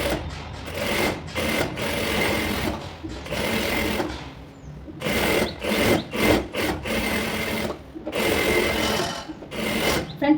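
A sewing machine stitches a blouse front to its lining in bursts of rapid mechanical whirring, stopping and restarting several times with short pauses between runs.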